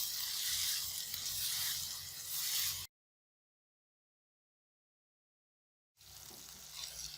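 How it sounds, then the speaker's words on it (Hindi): Onions frying in a pan, a steady broadband sizzle heard close up for about three seconds, then a gap of silence before the sizzling returns at slightly lower level. "प्याज फ्राई हो गए हैं"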